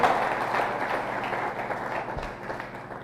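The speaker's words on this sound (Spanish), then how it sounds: "¿Le puede dar un sonoro aplauso al Señor?" Church congregation applauding the Lord during a Spanish-language service, a fairly faint, sustained wash of clapping from a crowd that slowly thins toward the end.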